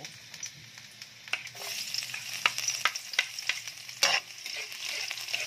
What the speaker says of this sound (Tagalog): lagyan natin yung bawang at ating papulahin yung brown man lang